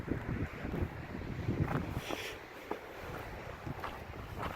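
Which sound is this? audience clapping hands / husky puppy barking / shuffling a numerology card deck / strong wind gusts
strong wind gusts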